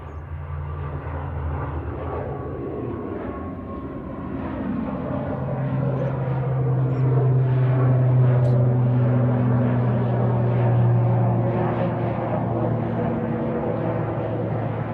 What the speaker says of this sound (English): Aer Lingus to Belfast is going next, ATR 72600 GCMJM, and it's already rolling.